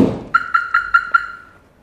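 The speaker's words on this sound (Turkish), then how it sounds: "Alarm devreye girdi." An aftermarket remote alarm on a BMW F30 arms: a soft thunk, then five short, evenly spaced, loud electronic chirps that ring out and fade, with no talking.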